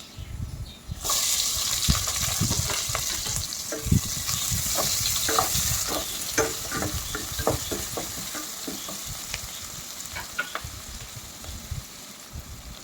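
Chopped garlic, green chillies and onions frying in a pan make a loud, close, continuous sizzle with scattered spatula scrapes and stirring knocks, slowly easing in intensity.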